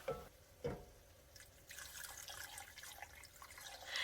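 Water pours in a steady, soft stream into a pot of sopa de fideo after a couple of brief clinks, continuing for a few seconds nearby.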